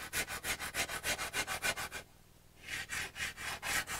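Putty rubber rubbed back and forth over a charcoal drawing, a quick run of rhythmic, dry scrubbing strokes close up, a short pause, then more strokes resuming; no talking.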